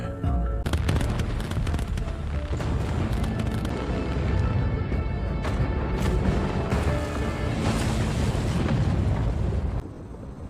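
Huge, continuous explosion tearing apart the Babylon complex in the drama A Shop for Killers, a dense roaring blast with crackling debris that fills about ten seconds at full loudness before easing slightly at the end, with no talk.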